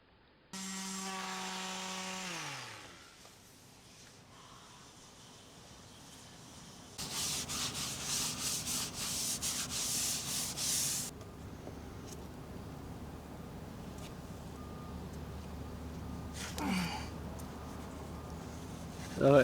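Steady rasping of sanding fairing filler on a boat, growing louder and harsher midway, then settling into a softer continuous scrub.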